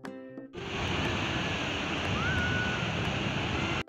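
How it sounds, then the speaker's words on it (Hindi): Sea waves wash onto the shore at night, a loud, steady roar of surf that starts abruptly and continues unbroken, with no talking. "लहरों की आवाज़ सुनिएगा।"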